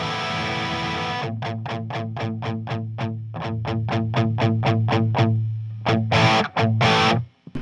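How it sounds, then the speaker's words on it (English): Heavily distorted electric guitar through the first distortion channel of a tube amp plays rhythmic chugging chords over a held note, ending with a few loud crashing strums. "So that's the first distortion channel."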